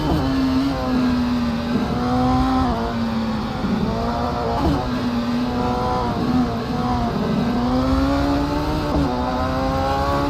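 Radical race cars in the CMRSC Caribbean Cup at the Grand Prix of Guyana, engines holding a loud, steady high-pitched drone with rising and falling pitch through gear changes, continuous and close throughout.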